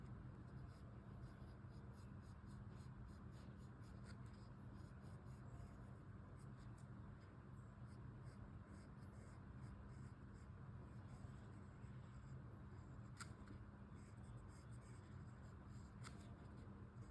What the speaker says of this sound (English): You have to draw freehand curve here.